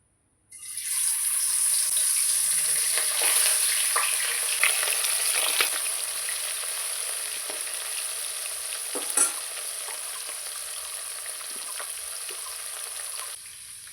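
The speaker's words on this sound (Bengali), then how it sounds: "তেলটা গরম হয়ে গেছে এবার মাছগুলো আমি তেলে ছেড়ে দেবো" Pieces of bata fish drop into hot oil in a kadai and sizzle loudly, a sudden burst of frying hiss that settles into a steady crackle, close up, with occasional stirring clinks and no speech.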